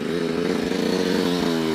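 An enduro motorcycle engine revs hard with far too much throttle during jump practice, giving a loud, close, continuous buzzing roar that holds steady for under two seconds.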